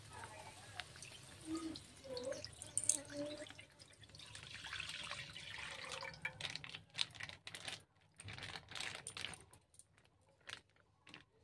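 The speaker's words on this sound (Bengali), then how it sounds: "500 মতন দুধ দিয়ে দেব কড়াইতে।" About 500 ml of milk is poured into a wok that already holds a little water. A faint, uneven splashing and trickling continues for several seconds, with light clinks and soft background noise.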